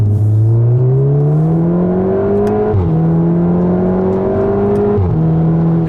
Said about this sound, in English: Every single time you shift, you get that bark.